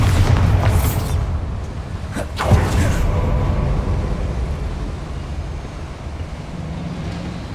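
Bombarda spell explosion in the Hogwarts Legacy video game, a loud deep boom with a rumbling blast that swells and then fades into a long low decaying tail, with no talking.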